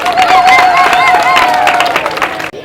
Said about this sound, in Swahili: Jipigieni makofi jeshi la polisi